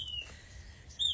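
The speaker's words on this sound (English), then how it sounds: "The birds say good morning too." Morning birds sing outdoors, with a few thin high whistled notes near the start and again at the end over quiet low background hum.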